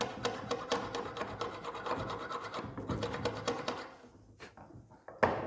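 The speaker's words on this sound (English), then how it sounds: "use a hacksaw and just create that groove again, scrape out the paint" Hacksaw rasping close up as it recuts the groove in a painted dome head screw on a coffee table, in quick uneven strokes that slow and thin out toward the end, finishing with a sharp scrape.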